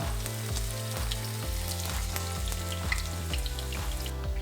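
Potatoes fry in plenty of oil in a pan, giving a continuous close sizzle and hiss that sits under steady background music.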